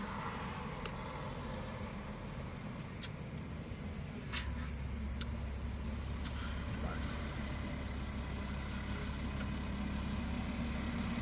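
Steady low rumble of car engines idling in a jam, a constant drone filling the scene with occasional brief clicks and knocks over it.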